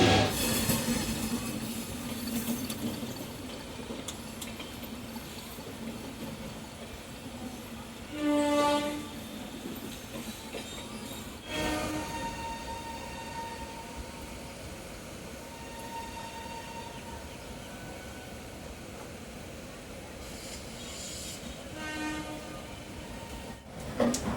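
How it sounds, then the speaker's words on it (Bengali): A passenger train pulls into Howrah station with a steady rumble and clatter of wheels, and several horn blasts sound at intervals, some near and some farther off. "হাওড়া স্টেশনের একদম কাছাকাছি চলে এসেছি এবার নামবো নামতে হবে ট্রেন থেকে"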